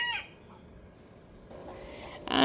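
Chickens clucking at a backyard coop, soft and close across a short stretch, over a steady outdoor hiss that grows louder at the end.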